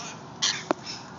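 A single crow-like caw rings out close and brief, followed by a quick sharp click.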